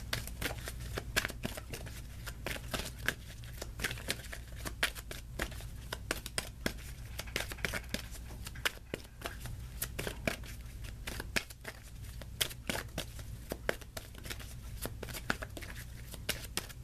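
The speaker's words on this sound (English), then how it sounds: "This is the Archangel Raphael Healing Oracle cards." Archangel Raphael Healing Oracle cards are shuffled by hand nearby, giving a steady run of quick, soft riffling flicks and papery slaps that keep going without pause.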